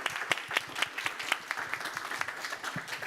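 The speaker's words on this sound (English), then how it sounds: "If we could have a round of applause for Kevin" A round of applause from an audience at an author event, scattered individual claps heard distinctly at moderate distance, steady and fairly sparse over a few seconds.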